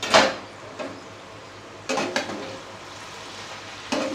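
Potato, onion and tomato fry in a pan with a soft steady sizzle, broken by three short scraping stirs of a utensil against the pan, close up with no talking.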